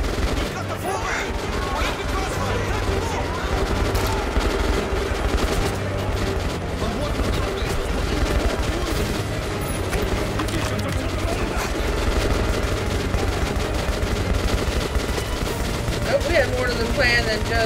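Gunfire in the Metro Last Light video game, with dense, loud, continuous bursts of automatic shooting and booms that run the whole way through as a player talks over it.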